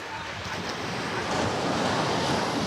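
Sea wind and breaking waves on the Arabian Sea shore near Somnath, a loud, continuous roar of surf with gusting wind buffeting the microphone, swelling slightly in the second half, with no voices.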